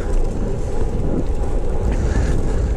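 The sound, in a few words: wind noise on microphone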